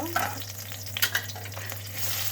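Green chilies and chopped onions fry in a pan, a steady close sizzle with brief stirring scrapes, and no voices.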